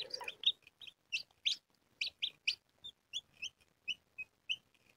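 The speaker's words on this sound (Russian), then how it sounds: "Вот этот вот цыпленок" A newly hatched chick fresh from an incubator on hatch day 22, giving a steady series of high, thin peeps in an even rhythm, close and clear with no talk.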